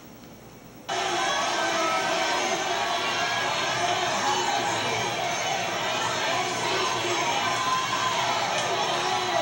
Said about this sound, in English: the crowd is screaming